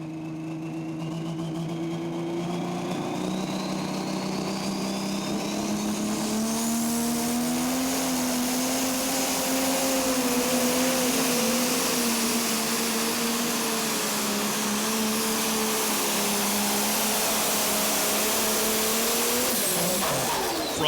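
A pro stock pulling tractor at a pulling event in Tomah, Wisconsin, roars steadily down the track, its loud engine droning and rising slowly in pitch over about twenty seconds with no break and no talk.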